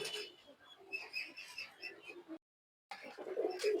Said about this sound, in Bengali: তো এই হইলো সবগুলা কবুতর